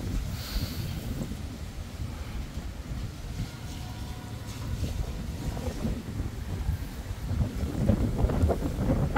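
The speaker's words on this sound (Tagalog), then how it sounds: "malakas na po hangin pero walang gaanong ulan, ambon lang." Steady, heavy super typhoon wind roars and buffets the microphone continuously, with only light drizzle, gusting stronger toward the end, with no voices.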